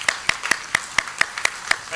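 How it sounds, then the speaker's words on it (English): A single pair of hands claps steadily about four times a second, close and crisp, as applause for entrepreneurs at a talk on technology and aging, with faint room noise underneath. "big round of applause for our awesome entrepreneurs"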